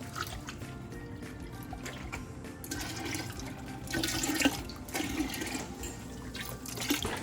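Beef broth pours steadily into a bolognese sauce, a continuous close liquid splash and gurgle that swells slightly toward the end.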